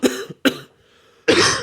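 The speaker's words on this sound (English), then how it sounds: "I feel like there was one cough that they recorded, and then they just looped it." A few sharp, close coughs in quick succession, looped from a single recorded cough, with a brief pause before a final harsher cough.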